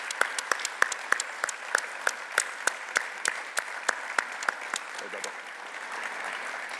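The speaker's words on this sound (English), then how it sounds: "large round of applause." Applause from an audience for an award recipient being honored with an Excellence in Innovation award at an event in Las Vegas, sharp individual claps standing out over a steady wash of clapping that tapers toward the end.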